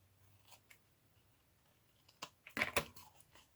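Scissors cut craft pieces at an angle in a quiet room. There are a few soft snips, then a louder cluster of crisp cuts and rustling paper close by.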